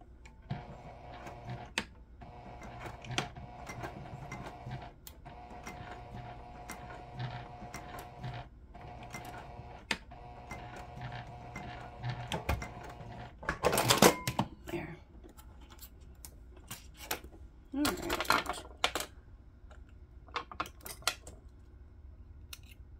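A home sewing machine stitching a line, running in steady rapid mechanical bursts separated by short pauses, with a louder rustle of fabric handling partway through and quieter gaps.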